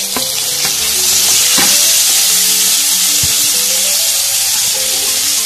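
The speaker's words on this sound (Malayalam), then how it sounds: "ഉള്ളി നല്ലപോലെ വഴണ്ടി വന്നിട്ടുണ്ട്" Onions and tomato sauté in a pan for a vendakka parippu curry, a steady loud sizzle with occasional stirring scrapes and clicks throughout, no talking.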